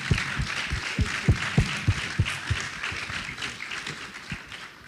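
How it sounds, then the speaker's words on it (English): Audience applause at an IMF panel discussion on Caribbean sustainability, heard as scattered, uneven claps with a few sharp individual hits standing out, moderately loud and fading toward the end. "Please, a round of applause."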